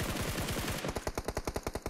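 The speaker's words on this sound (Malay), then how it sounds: "tim X cuba untuk melepaskan tembakan ke arah Roy" Rapid automatic gunfire from a PUBG Mobile esports match, a fast rhythmic burst of shots that continues steadily and loudly through the whole stretch with no talk over it.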